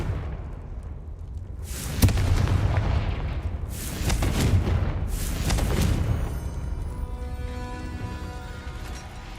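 Fiery Confringo spell blasts from Hogwarts Legacy, three loud booming bursts at roughly two-second intervals over a rumbling battle bed, fading into a ringing tail.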